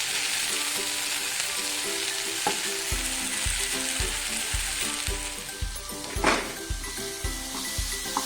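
Pepper chicken masala sizzling loudly in a pan while being stirred, a dense continuous fry with rhythmic scraping knocks of the spoon against the pan, close up and with no talking.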